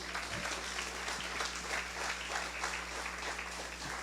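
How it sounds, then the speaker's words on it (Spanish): Church congregation applauding during an evening service, a dense steady wash of clapping lasting throughout, moderately distant and even in level, with no speech over it. "¿Puede darle un aplauso a la gloria de Dios?"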